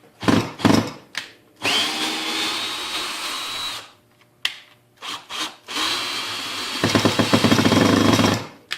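A Hart drill driver whirs in bursts while driving screws into wood, with short starts and stops, then a long run and a rattling, grinding stretch near the end, loud and close with no talk.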